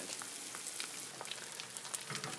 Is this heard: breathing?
no